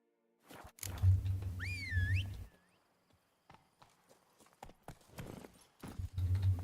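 Hooves of the horse Roach clop rhythmically in The Witcher 3, with a whinny near the start and uneven galloping thuds through the rest, set against a low rumble.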